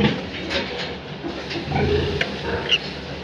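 Pigs and sows on a breeding farm grunt and snort at close range, a few short oinks rising over steady barn background noise.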